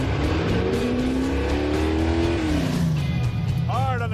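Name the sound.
1972 AMC Javelin accelerating then braking hard on track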